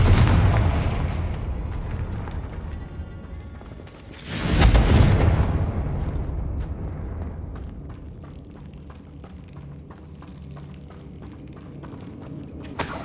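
A single heavy explosion from the Confringo spell in Hogwarts Legacy bursts out loud and close, then fades into a long rumbling tail with scattered crackles.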